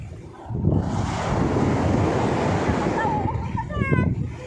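Strong wind and rough sea waves roar steadily around a small fishing boat hauling in its nets, a loud, continuous wash of noise buffeting the microphone, with a brief voice-like sound near the end.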